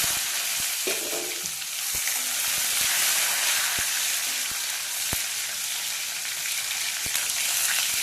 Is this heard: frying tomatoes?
yes